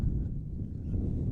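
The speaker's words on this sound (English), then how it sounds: "You can hear in the microphones there's a bit of breeze starting to gust up" Outdoor breeze buffeting the microphones at a sports ground, a continuous low rumbling gust with no talk.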